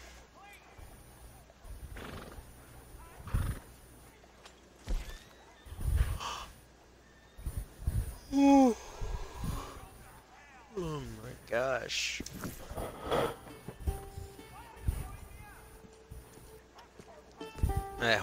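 In Red Dead Redemption 2 Online, a horse gives a sharp whinny midway, with scattered hoof clops and other game sounds around it. Someone talks intermittently over the game audio.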